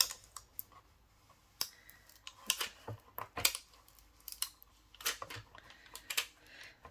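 Cut Cricut vinyl peeled off its backing at close range, giving sparse, irregular crackling and sharp ticks, with brief quiet pauses between the pulls.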